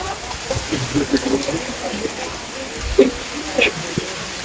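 Rain falls steadily on a construction site where concrete casting work has halted, a continuous soft hiss and patter with a few louder drops and knocks standing out.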